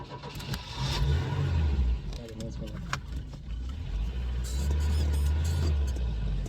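A Peugeot 504 pulls away under load, its engine droning low and steady close by with a rising rev, while a voice talks over it.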